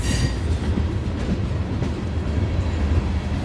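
Loud, continuous rumble and rattle of CN freight train 502 rolling past nearby at Brantford, with steady clattering of wheels on track.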